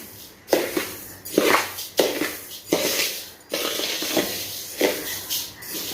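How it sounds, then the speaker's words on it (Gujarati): Coriander seeds roast in a pan while being stirred in regular strokes, each sweep giving a dry, rattling scrape, about eight strokes in close, steady rhythm with no voices. "આપણે એકલી ધાણીને જ શેકવાની છે"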